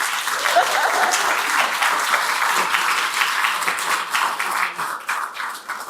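An audience at a Maryland state leaders' event claps in steady, loud applause, which thins and tapers toward the end.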